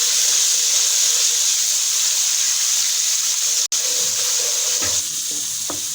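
Onion with garlic-ginger paste fries in hot oil for a curry, giving a loud, continuous close-up sizzle with faint stirring scrapes near the end.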